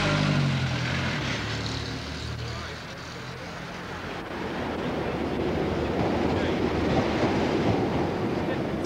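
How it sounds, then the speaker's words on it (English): A London-bound passenger train rolls into a station, a loud continuous rumble of wheels and carriages with rhythmic rail clatter building over the last few seconds. "The London train pulls in."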